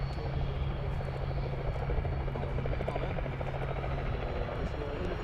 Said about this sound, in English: I'll wait until this plane takes off